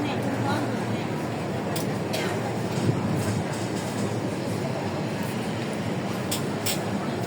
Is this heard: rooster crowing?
no